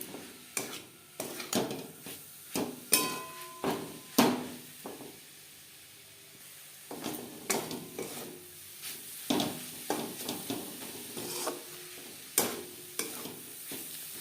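Coconut and jaggery filling is stirred in a pan on the stove for patishapta pitha, with repeated scraping and tapping strokes over a soft sizzle, pausing briefly midway before resuming at a steady rhythm.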